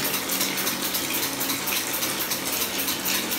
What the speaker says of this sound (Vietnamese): Đây mở cho mình cái vòi nước này nhé